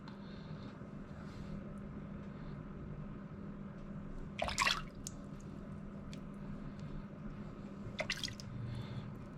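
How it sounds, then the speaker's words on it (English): Prawn meat is rinsed in water, with a quiet background and two short bursts of splashing and dripping, close and fairly soft, with no talking. "We'll give it a last little wash."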